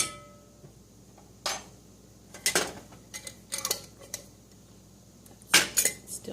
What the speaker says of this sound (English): I can use this to stir.